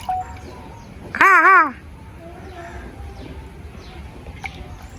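One loud, harsh crow caw rings out nearby in Jaffna, Sri Lanka, standing out against a quiet outdoor background with faint, distant calls.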